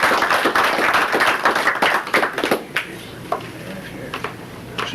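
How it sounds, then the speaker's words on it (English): Applause breaks out at a school board of education meeting, a dense burst of clapping from a roomful of people that gradually thins into scattered claps. "without some sort of round of applause or something"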